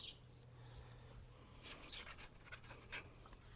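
A razor blade scrapes old gasket material off a Farmall tractor's hydraulic housing, giving quiet raspy strokes that grow into a run of short, irregular scrapes near the end.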